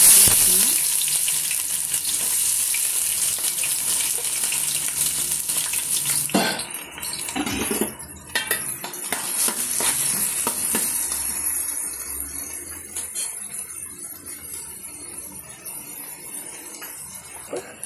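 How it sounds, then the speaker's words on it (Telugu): Chicken and liver frying together with onion in a pan, a loud close sizzle that softens after a few seconds, with a couple of clattering stirs and scrapes against the pan and no talking. "ఇదిగోండి చికెను లివరు 2 కలిపి నేను ఫ్రై చేస్తున్నాను."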